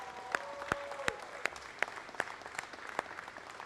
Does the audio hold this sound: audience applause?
yes